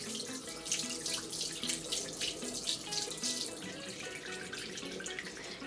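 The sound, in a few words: rinsing a makeup brush under running tap water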